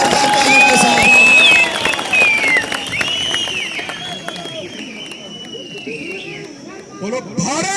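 A crowd at a Bharatiya Janata Party election rally in Kishtwar claps loudly and cheers for Sunil Sharma, with dense applause at the start that thins out while voices shout and call over it.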